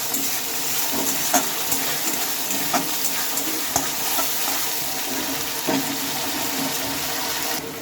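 Ginger, cumin, coriander and poppy seed spices fry in a pan while cauliflower and new potatoes are prepared, giving a steady close sizzle with scattered stirring scrapes and small taps throughout.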